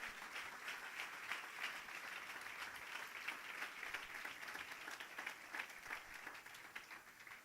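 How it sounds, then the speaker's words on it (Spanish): A church congregation applauds steadily, a dense wash of many hands clapping at once that holds without a break before tapering slightly. "dale un fuerte aplauso al Rey si lo crees"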